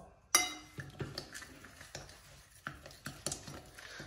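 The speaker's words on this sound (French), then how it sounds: "Alors, on mélange bien l'ensemble." Chicken pieces in their juices are turned in a pan with a utensil: a sharp clink, then a run of soft scrapes, knocks and wet shuffles, close and moderately quiet.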